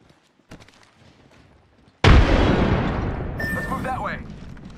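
A grenade blast in a battle-royale shooter game bursts in loudly after a couple of seconds of quiet, with a long rumbling decay and scattered debris-like crackle trailing off.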